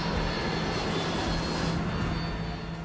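A large airliner dives low over a city, its engines giving a steady, loud, unbroken roar that holds at one level throughout.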